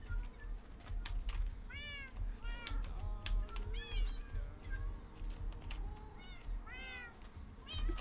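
Repeated cat meows from Minecraft, several rising-falling calls spaced irregularly over a steady low hum, with a faint clicking like typing in the background.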